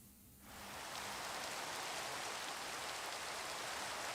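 Rain in Minecraft fades in after a brief quiet start, then settles into a steady, even hiss of falling rain with no other sounds on top.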